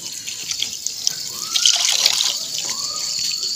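Tap water runs steadily into a sink while green chillies are rinsed, a close continuous splashing hiss with no talk.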